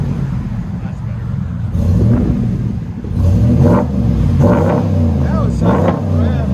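Car exhaust with a resonator delete revving in a deep, rumbling tone, several throttle blips rising over a steady low idle, close by with voices talking over it.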